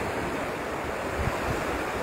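Ocean waves surging against an African shoreline, a continuous loud wash of surf with gusty wind rumble against the microphone and no pause or talk.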